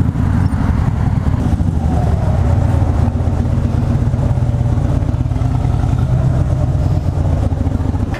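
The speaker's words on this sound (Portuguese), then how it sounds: "essa aqui foi a Fat Bob 2013, motor Twin Cam" A loud 2013 Harley-Davidson Fat Bob motorcycle with a Twin Cam engine runs steadily up close, a deep throbbing rumble with a low, uneven idle pulse throughout.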